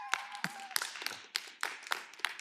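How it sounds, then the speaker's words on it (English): Audience applause in a workshop or class, a short run of sharp, uneven claps from a small group, fairly faint and distant, with no talking over it. "Round of applause for Alex for"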